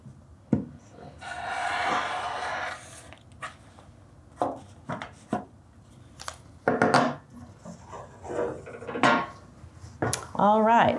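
Cutting and trimming a folded quilt along a T-square with a cutting tool, a series of sharp ticks, scrapes and short rubbing strokes at close range in an otherwise quiet room, with no talking.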